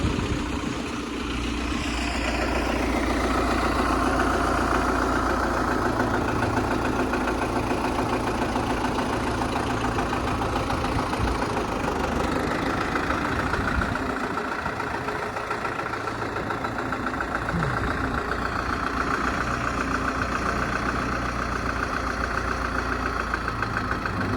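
A tractor such as an MTZ 892 or YuMZ 6 fitted with a cultivator idles nearby, a steady loud low engine drone running unbroken from start to end with no talk.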